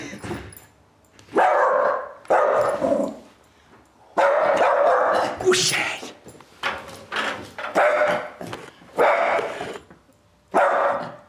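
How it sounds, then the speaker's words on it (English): A young dog barks in repeated loud, yipping bursts close by, with whiny squeals between the barks. "This is dog talk."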